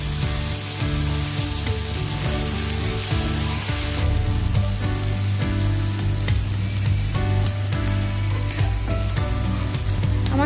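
Mixed chopped vegetables including carrot frying together in a pan for a vegetable dal, a continuous sizzle beneath a steady droning background music.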